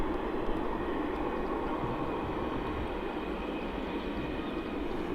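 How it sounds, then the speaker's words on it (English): An aircraft auxiliary power unit runs at a cargo airport, a faint, steady distant drone with a droning hum and a thin whine, unchanging throughout. "Maybe it's an APU sound?"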